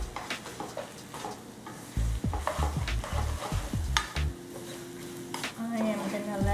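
Shrimp lo mein noodles stir-fried in a pan, with repeated scraping and tossing strokes over a steady sizzle, loud and close; no voice.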